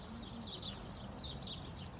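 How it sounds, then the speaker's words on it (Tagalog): Faint bird chirps repeat in two brief bursts over a low rumbling background, soft and somewhat distant. "Tunog ng ibon. Ang sarap pakinggan, ah."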